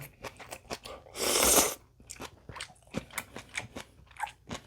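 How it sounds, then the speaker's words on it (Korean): Close, wet chewing and crunching of Ottogi ramen noodles eaten with kimchi, a steady run of bites with one loud crunchy burst near the middle, no talking. "김치랑 먹으니까 맛있네요"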